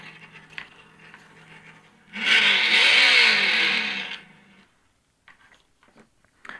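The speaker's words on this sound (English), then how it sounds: "So that's revving." On-board audio speaker on a Traxxas UDR RC truck playing a simulated engine rev: a loud, rising roar lasting about two seconds, rising out of quiet background noise and cutting off abruptly, followed by near silence and faint handling clicks.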